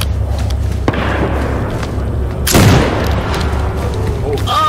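A grenade explodes in the STALKER video game, one loud, close blast partway through that stands out over a constant low rumble of background noise.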